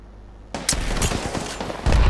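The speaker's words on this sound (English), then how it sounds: "I'm getting shot" Rapid bursts of gunfire from the battle royale game Apex Legends crackle sharply and loudly, several shots close together followed by a heavier blast near the end.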